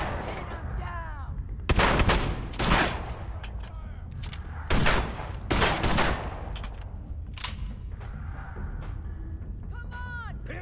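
Gunfire in Fallout 4 rings out in bursts of loud close shots, with a cluster around two seconds and another near five to six seconds, and a player talks between them over the game's ambient sound.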